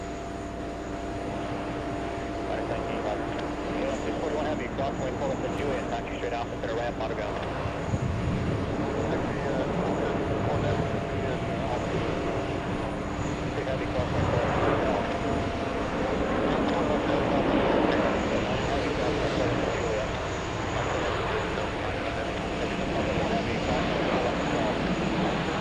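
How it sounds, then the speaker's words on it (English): Lufthansa flight 410, an airliner arriving from Munich, lands on runway 4 Left at JFK airport: a continuous, fairly loud engine roar and rumble that swells and holds for the whole stretch, heard from a distance. "We have Lufthansa 410 flying in from Munich."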